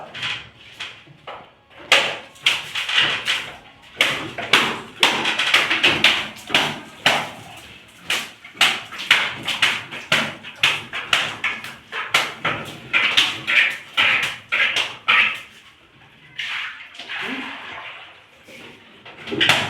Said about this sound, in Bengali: এবার আমি গোলা মারতে শুরু করবো